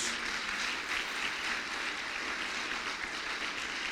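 A church congregation claps together in steady, even applause that fills a large room and lasts several seconds at a moderate level.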